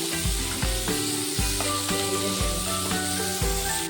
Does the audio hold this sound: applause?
no